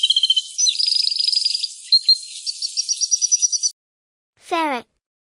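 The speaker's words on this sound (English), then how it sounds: "Canary." Canary chirping and trilling in rapid, high, bright phrases for several seconds, close and clear, followed by a short pause and one sweeping descending call.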